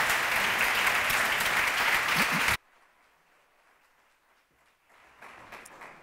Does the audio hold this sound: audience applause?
yes